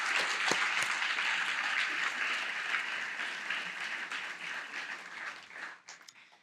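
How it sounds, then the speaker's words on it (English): Scholarship banquet audience applauding, a sustained burst of many people clapping in a large room that holds steady and then tapers off near the end, with no talking over it. "join me in applauding these new scholarships"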